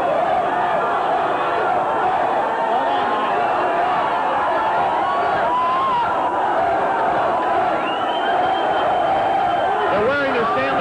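A dense, loud crowd of hockey fans swarms around the Pittsburgh Penguins players arriving at Pittsburgh airport, steady cheering and chatter filling the space, with a commentator talking over the din.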